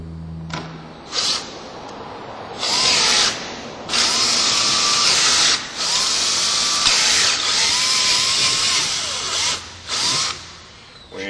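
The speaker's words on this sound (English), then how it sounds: "we're going to drill these 4 holes out" Power drill boring holes through a ball lift: several separate bursts of whining drilling, some short and some several seconds long, separated by brief pauses, close and fairly loud.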